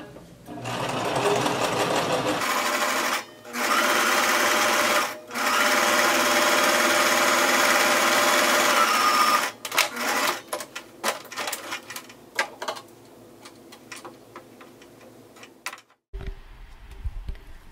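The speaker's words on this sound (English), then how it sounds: "now we're sewing down, top stitching on the front of our skirt" A sewing machine top stitches along the front of a skirt in fabric, running in long steady whirring bursts broken by short pauses, then a scatter of quieter clicks and handling noises near the end.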